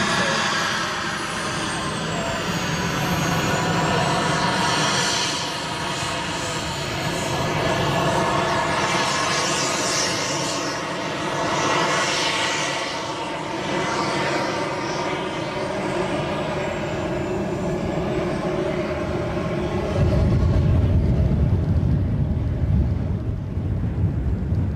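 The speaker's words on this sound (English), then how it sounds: "And there's a second Vulcan comes round." An Avro Vulcan bomber flies past at an airshow, a loud, rumbling jet roar with rising and falling whine and a heavier low surge near the end.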